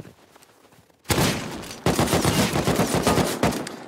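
Gunfire in the video game Rust: loud, close bursts of rapid automatic shots that start abruptly after a quiet second, briefly pause, then resume in dense repeated volleys with no talk.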